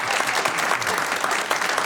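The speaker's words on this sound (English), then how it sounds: "Now we can clap." Brisk, dense applause from a crowd, many hands clapping steadily and fairly loud throughout the short stretch.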